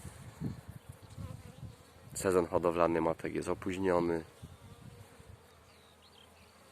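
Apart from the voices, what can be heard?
honeybees buzzing at hive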